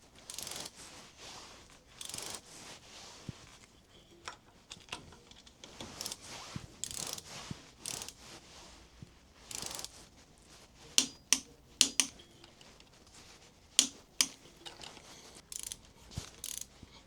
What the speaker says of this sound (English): So the lower clamp bolts needs to be tightened with 23 Newtonometers.